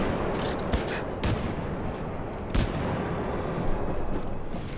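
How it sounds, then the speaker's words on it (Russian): Grenade blasts and gunfire in the shooter game Wolfenstein II: The New Colossus, a dense barrage of sharp bangs and booms over a constant roar of combat, several distinct blasts standing out. "Закидали все гранатами, все, что можно."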